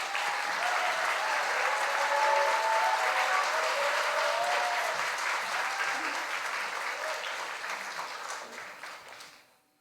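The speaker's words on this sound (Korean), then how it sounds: "박수로 환영해 주십니다." A church congregation at a pastor's installation service applauds to welcome the new senior pastor, a sustained, fairly soft wash of many clapping hands with faint voices mixed in, tapering and fading out near the end.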